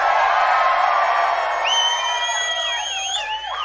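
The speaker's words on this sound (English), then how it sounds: "I have to tell you, this is an amazing crowd." A large crowd at Robert Englund's Hollywood Walk of Fame star ceremony cheers loudly, with shouts and whoops. Rising whistles cut through in the second half as the noise slowly thins.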